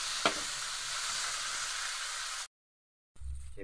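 Meat sizzles loudly as it drops into a pan of golden-browned garlic and softened onion, a steady hiss with a brief clatter at the start, cutting to silence before frying noise resumes.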